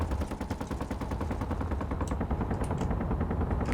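Rapid automatic gunfire from the Space Engineers video game, a dense, continuous rattle of evenly spaced shots, loud and close, with no voices over it.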